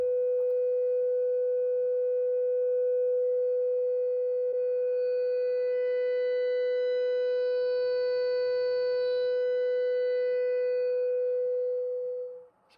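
A steady sine wave test tone plays through a Fender Princeton Reverb amp with fizzy overdrive, a constant clipped pitch with a faint buzz of harmonics that holds for about twelve seconds before cutting off.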